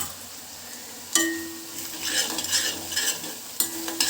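Thinly sliced curry leaves fry in a pan for inji puli, an Onam Sadya ginger-tamarind relish. A steady close sizzle carries on throughout, with sharp utensil clinks near the start and near the end.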